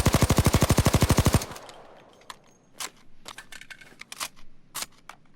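An HK MP5 Compact 5 submachine gun in Payday 2 fires a rapid, even full-auto burst of about sixteen loud, close shots lasting roughly a second and a half, followed by scattered mechanical clicks and rattles.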